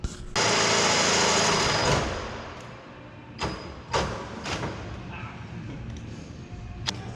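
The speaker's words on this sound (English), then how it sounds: "So we'll do the 1/2 inch drill bit, and then hope it goes through." A half-inch bit drills through metal on an E36 car fitted with a 1JZ engine. The drill whirs loudly and close for about two seconds, then winds down, followed by several knocks and thuds.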